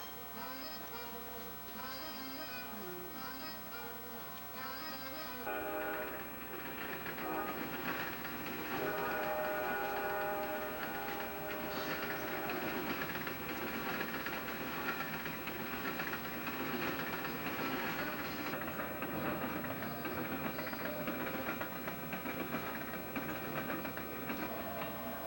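Train on rails, likely the Amtrak Cardinal (Greenbrier Limited) near Charlottesville, heard as a steady low rumble and rolling wheel noise building after a few seconds, with faint tonal squeals or whistle-like tones over the clatter, fairly quiet and distant throughout.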